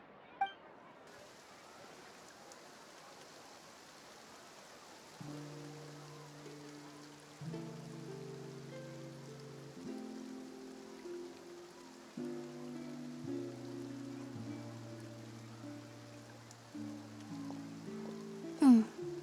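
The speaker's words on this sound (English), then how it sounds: "Looks like rain." Rain falls in the Fontaine region of Genshin Impact, a soft, steady hiss that sets in after the first second and runs alongside gentle background music.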